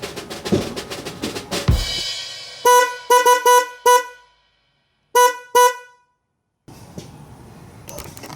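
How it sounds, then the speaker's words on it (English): A Dodge truck's horn blares in a series of short honks, two quick blasts, then a couple more, and two more after a pause, loud and close, with silent gaps between them. "what I want to do right now is go in and hit the horn"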